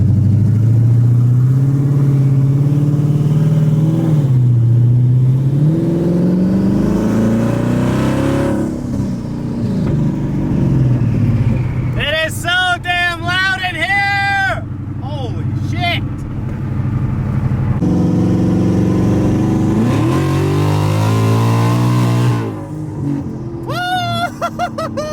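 A 1,000 HP Ford Mustang with its exhaust removed, revving loudly inside the cabin, engine tone rising and falling in surges while people talk over it.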